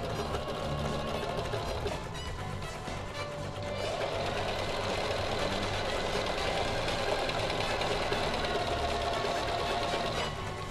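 Singer sewing machine stitching a dish towel, a steady, continuous mechanical whir and needle rattle running throughout, close and even in loudness, without speech.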